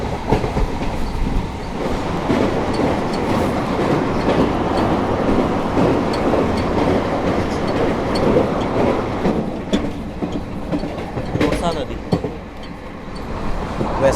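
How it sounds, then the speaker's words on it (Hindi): Dibrugarh Rajdhani Express rolling past, a steady close rumble of wheels with rhythmic clickety-clack over rail joints and a few sharp metallic squeals near the end. "One 2424 Dibrugarh Rajdhani express."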